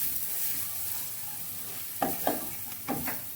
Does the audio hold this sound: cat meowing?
no